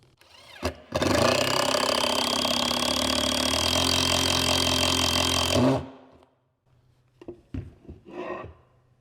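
A Quickscrews funnel head screw is power-driven into wood, giving a loud, steady whirring drive of about five seconds that stops abruptly, followed by a few quieter clicks and handling noises.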